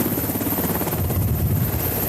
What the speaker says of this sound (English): Additional Black Hawk helicopters will now patrol the border